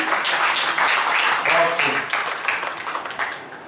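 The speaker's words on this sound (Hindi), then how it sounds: "तो एक बार जोरदार ताली इनकी भी नहीं बजाएंगे" Audience applause at a university poetry event, Baitbazi at Jashn-e-Baharan 2024 at MANUU Hyderabad, as award winners are called up; a broad, steady wash of clapping holds for several seconds and tapers slightly toward the end.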